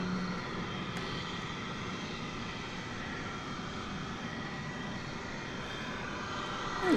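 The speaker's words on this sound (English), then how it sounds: "Our next arrival is going to be American Flight 2781 from Los Angeles," An American Airlines Airbus A321 arriving at DFW Airport from Los Angeles, a steady broadband jet roar holding at an even level throughout, with no voices.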